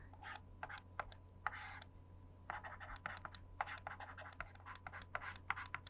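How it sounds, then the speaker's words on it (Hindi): Pen scratching on paper as a maths answer is written out by hand during a Class 11 lesson, a run of short, close, quiet scribbling strokes with brief pauses over a steady low hum. "अब अपना आंसर लिख लेते हैं।"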